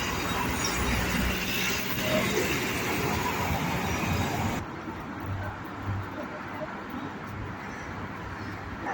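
Broad, steady rumble of a KTM commuter train with rail noise at a station in Putra, Kuala Lumpur, loud and continuous, dropping to a quieter hum partway through.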